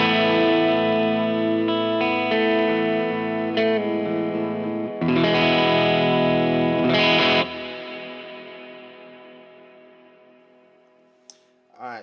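Distorted electric guitar chords ring out through a Strymon Iridium amp modeler pedal, loud and thick with chorus-like shimmer, then a final chord slowly fades away.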